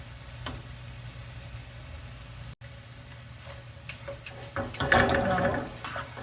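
Carrot burfi mixture stirred in a pan as it cooks, a soft continuous sizzle with scraping strokes of the spoon that grow busier and louder toward the end.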